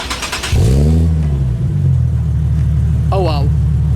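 A Nissan 370Z engine cranks and fires up with a loud rising roar, then settles into a deep, steady idle rumble; a voice speaks briefly near the end.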